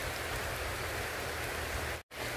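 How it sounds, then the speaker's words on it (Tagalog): Steady rain pouring down outdoors along a roadside stall on a four-lane bypass in Arayat, Magalang, a dense even hiss that holds throughout, briefly cutting out near the end before resuming. "At nakita nyo naman po, umuulan na."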